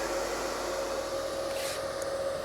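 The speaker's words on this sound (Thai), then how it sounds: "เสียงพัดลมนะฮะเนี่ย" Cooling fan of a mini inverter welding machine running just after switch-on, a steady, even whir with a constant tonal hum, fairly quiet and heard on its own.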